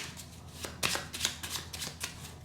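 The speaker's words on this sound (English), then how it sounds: "we'll shuffle these cards." Deck of game cards for the board game Pentaquark being shuffled, a series of quick riffling bursts with soft snaps, close and fairly quiet, no talking.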